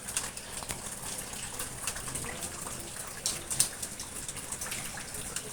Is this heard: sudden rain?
yes